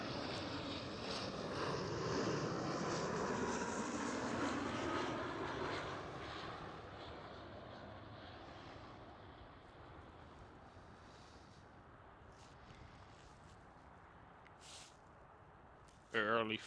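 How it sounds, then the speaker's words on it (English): An Eastern Airways Embraer E190 jet flying for KLM Cityhopper roars at Schiphol, a broad rushing engine noise that swells in the first few seconds, then fades to a distant rumble, with a brief sound at the end. "Right now we do have Eastern Airways E190 flying for KLM Cityhopper."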